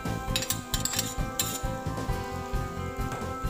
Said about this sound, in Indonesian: Kita aduk nasinya biar merata sama bumbunya.